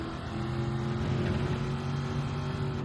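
A race car engine in Gran Turismo 7 holds a steady, loud drone at partial throttle while cornering, its tone wavering slightly and continuous from start to finish with no talk.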